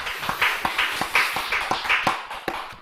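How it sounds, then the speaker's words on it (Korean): A church congregation claps in praise at a Friday late-night worship service, a loose, fairly even run of hand claps about every third of a second, moderately close and without any talk. "우리 하나님께 영광의 박수 올려드립니다."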